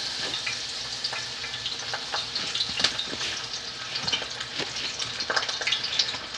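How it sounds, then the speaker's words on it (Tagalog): Fish sizzles and crackles steadily in hot oil in a frying pan, with a dense layer of spitting pops and occasional clinks, close and loud throughout. "Fry doon natin yan, mga kapatid ko."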